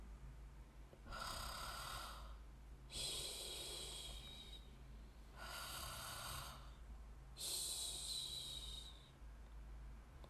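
Four slow, rasping snores at steady intervals, each a drawn-out breath with a soft pause between, over a low constant hum.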